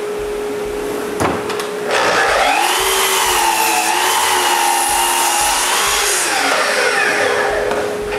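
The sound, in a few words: drilling holes in soffit pieces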